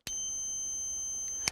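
Negative tone from an ANCEL PB100 automotive power circuit probe tester: one steady, unbroken high electronic beep lasting over a second, bracketed by small clicks at the start and end, with no voices.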